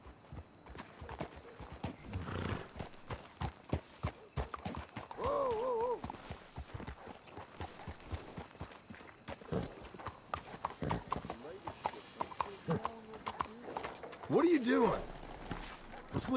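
Horse hooves clip-clopping in Red Dead Redemption 2, a steady walking rhythm of hoofbeats with an occasional whinny and creaking tack, heard under ongoing character dialogue.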